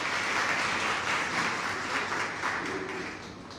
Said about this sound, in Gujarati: એકવાર ફરી તાળીઓ થઈ જાય.